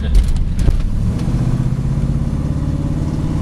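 A 1963 Buick Wildcat engine pulls hard under acceleration: a loud, close, throaty low rumble that builds steadily and continues without a break throughout.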